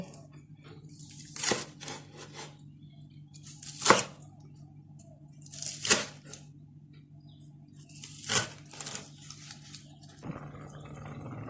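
Several sharp, crisp chopping thuds at irregular intervals, a knife cutting through small shallots on a board, over a steady low hum.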